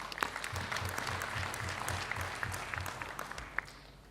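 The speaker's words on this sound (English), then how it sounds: "Can we give them a round of applause?" An audience applauds during a municipal speech by the eThekwini deputy mayor, a sustained crowd clapping wash with a low rhythmic thumping pulse running beneath it.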